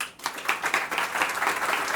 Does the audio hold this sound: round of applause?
yes